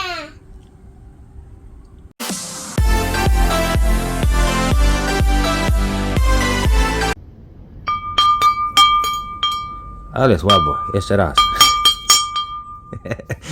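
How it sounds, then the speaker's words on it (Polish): A large metal bell from a scrap haul is struck, giving a loud ringing tone with long overtones, followed by lighter clinks and chimes; people laugh and talk around it. "No co za dzwon"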